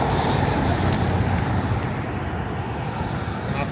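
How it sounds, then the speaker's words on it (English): Steady roadway traffic with cars passing continuously, a broad rumbling wash of engine and tire noise that stays loud and even throughout. "A lot of cars or something."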